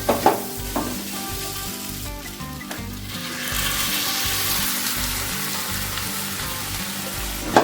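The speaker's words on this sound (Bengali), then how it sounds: "ডালটা দিয়ে একটু নাড়াচাড়া করে নিই ডালও মেশানো হয়ে গেল মশলার সাথে" Jackfruit and chana dal frying in spiced oil, stirred in a pan with a steady, close sizzle and bubbling, scraping stirs and a sharp clink at the start and end, with no talk.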